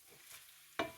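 Chickpea and quinoa mixture stirred in a pot, with soft scraping and light sizzling, then one sharp close clack of the spoon near the end.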